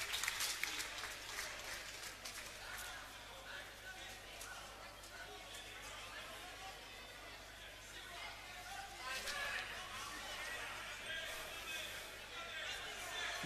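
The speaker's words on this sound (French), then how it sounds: "il sort sous les applaudissements du nombreux public de la salle du COSEC" Sustained applause from a large indoor crowd at a wheelchair rugby league World Cup quarter-final, steady clapping with a murmur of voices beneath it, echoing in a big sports hall.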